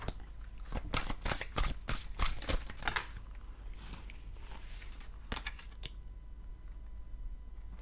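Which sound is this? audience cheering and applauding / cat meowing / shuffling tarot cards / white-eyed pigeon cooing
shuffling tarot cards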